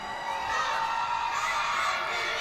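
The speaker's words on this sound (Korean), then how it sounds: "Go Fight Win이라고 외치는 우리 셀카팀" Middle-school cheerleading team at a national school sports club cheerleading competition in Seoul shouting a chant, several voices yelling together in a sustained, loud group cry with crowd noise around it.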